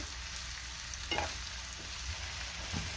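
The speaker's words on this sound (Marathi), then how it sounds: "आपल्याला कांदा साधारण तीन ते चार मिनटं चांगला परतून घ्यायचा आहे" Oil and butter sizzle steadily as chopped onion fries, with a soft crackle and occasional stirring scrapes, close and fairly quiet.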